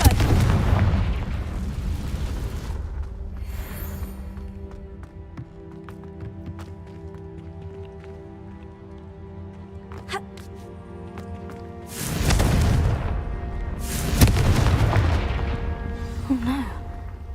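Confringo blasting-spell explosions in Hogwarts Legacy go off in a spider-infested spot: a loud burst at the start, then quieter rumbling ambience, followed by two more heavy booming blasts near the end.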